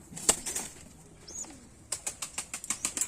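Giribaz pigeons give soft calls and a sharp flutter, then a rapid, rhythmic run of wing flaps close by, with no talking.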